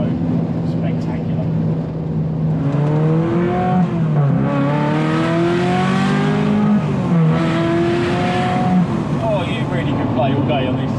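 A Ferrari F355 engine with its exhaust valve open, revving up and down through rising and falling sweeps, loud and close, sustained throughout.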